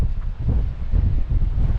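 Steady wind buffeting the microphone outdoors on the coast of Yorke Peninsula, South Australia, a low continuous roar with gusty swells and no voices.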